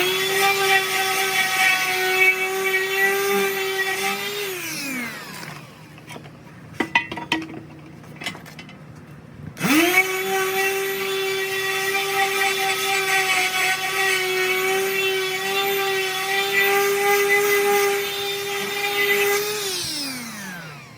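A power sander works an aluminum bar meant as a truck tool box spacer, running loud and steady with a whining tone, winding down, pausing briefly with a few clinks, then starting up again for another long pass.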